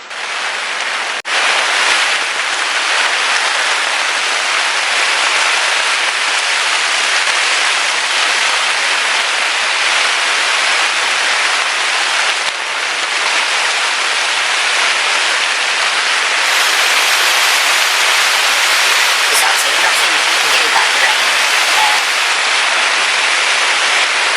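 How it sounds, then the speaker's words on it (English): Steady, heavy rain pours continuously, a dense hiss with no let-up and no voices. "It has to stop raining sometime."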